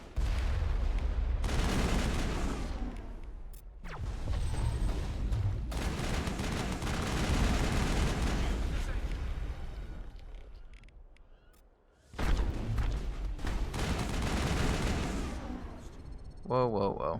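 Heavy crossfire in the Mass Effect video game: loud, dense bursts of gunfire and blasts in long waves, fading to a lull before erupting again, with sci-fi weapon effects over the top.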